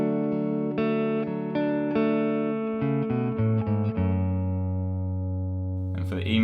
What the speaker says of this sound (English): we're going to introduce a little riff that goes in between these 2 chords